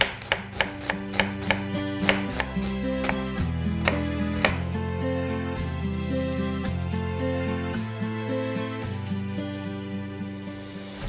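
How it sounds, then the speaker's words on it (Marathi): A knife finely chopping onion on a board for a mango-twist salsa, a quick, regular run of crisp cuts, clearer at the start and softening later, over steady background music. "आपण अजून कांदा कापून घेऊ आपला, जो आपल्याला सालसाला लागणार आहे"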